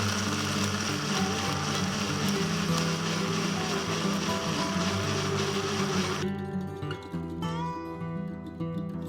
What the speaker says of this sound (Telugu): ఇలా అన్ని జార్లో వేసుకొని బాగా స్మూత్గా వచ్చేటట్టు మిక్సీ పట్టుకోవాలి